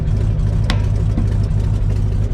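A 1962 Chevrolet C10 engine, recently smoking and with spark plugs still clearing, runs steadily close by with a loud, rough low rumble and one brief sharp tick partway through; nobody speaks.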